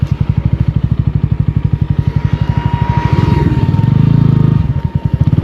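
Bajaj Pulsar N160 motorcycle riding in fourth gear, a close, loud single-cylinder exhaust thumping in a fast steady pulse, then a louder swelling roar as the throttle opens before easing off.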